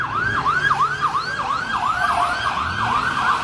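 Police car sirens wail in a rapid, repeating up-and-down yelp during a chase through city streets, steady and fairly close, with faint traffic rumble beneath and no voices.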